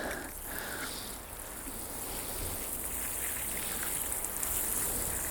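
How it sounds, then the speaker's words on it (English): Water pours steadily onto soil around a newly planted garden plant, a continuous close splashing wash with no talk, in a wildlife-friendly garden. "So I'll just get him watered in."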